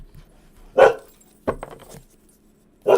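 A dog gives three separate sharp barks, spaced apart with quiet gaps between them, fairly close and clear against a near-silent room.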